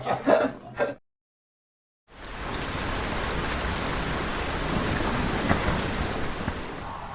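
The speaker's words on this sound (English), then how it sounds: "On top of that, it's raining" Steady rain hisses down on a cold early morning in Norway, a broad even wash of noise that starts after a short silence, preceded by a brief burst of other sound.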